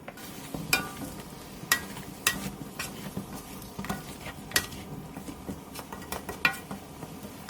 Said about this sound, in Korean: 고추장, 고춧가루, 진간장, 멸치 액젓을 넣고 다시 한번 골고루 섞어주세요.